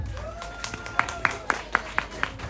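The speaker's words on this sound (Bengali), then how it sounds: "ওর জন্য একটা হাততালি।" Sparse, evenly spaced handclaps from a small group applaud a singer at a spring festival (Pohela Falgun) gathering, fairly close and quiet, with faint background murmur.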